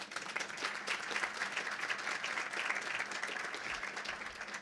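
An audience applauds for board members at an Ozarks Electric gathering, a steady, dense wash of clapping from a sizeable crowd that holds evenly throughout without talk.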